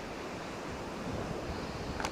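Steady wash of waves on the rocky Black Sea shore beside a campsite tent, a continuous broadband surf with some wind buffeting the microphone, and a brief higher chirp near the end.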